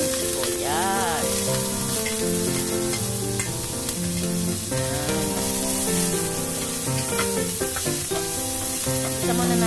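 Onions frying in a pan, a dense continuous sizzle with crackling pops and occasional stirring scrapes of a utensil, close and loud throughout with no talk.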